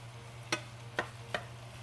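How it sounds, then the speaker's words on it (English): A utensil stirs burger bowl food during cooking, making three distinct scraping knocks spaced about half a second apart over a steady low hum, with no talking. "we're just gonna go with this style of stirring"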